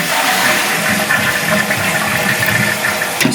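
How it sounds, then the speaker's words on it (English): A household toilet cistern flushes close by, and water rushes down in a steady, full surge that runs without a break to the end, with no voices. "So if I just flush this now"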